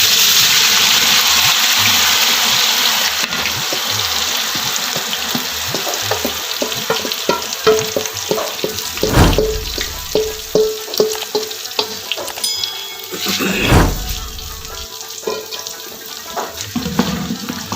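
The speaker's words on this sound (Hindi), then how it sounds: "अब इसमें जो मैंने प्याज और टमाटर जो है ना पेस्ट बनाया है वो डालना।" Onion and tomato paste tipped into a pot of browning beef korma sets off a loud, steady sizzle and frying hiss, followed by stirring and scraping noises, with no voices.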